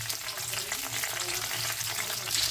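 Dried red chilli, bay leaf and mace sizzling in hot oil, a loud, steady crackling hiss that fills the whole moment without pause.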